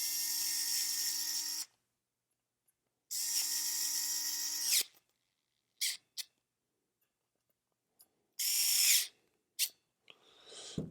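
A power tool drives machine screws into a Williams Joust pinball machine during a restoration. It comes as two long whirring bursts, then several short blips and a final burst, close and fairly loud, with silent gaps between them.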